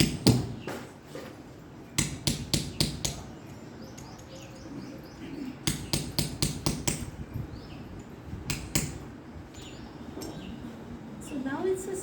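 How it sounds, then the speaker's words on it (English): Metal strikes from a hammer driving a chisel through hard metal to cut coin blanks, in traditional ancient Indian coin making, ring out in sharp irregular bursts over outdoor birdsong, with light talk around. "He is using a hammer, and a chisel to cut."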